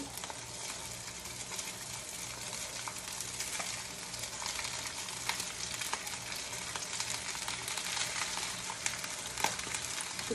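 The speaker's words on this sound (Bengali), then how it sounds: "এখন রাইসগুলো দিয়ে দিচ্ছি" Rice cooks in a large pot with a steady, loud sizzle and a constant frying hiss throughout, with occasional stirring scrapes.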